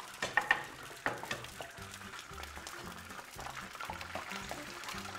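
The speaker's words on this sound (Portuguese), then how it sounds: "neste momento estamos a alourar a cebola" Onion browning in a pan, a soft crackling fry with light stirring and a few clicks early on, faint and close, under a low rhythmic background hum.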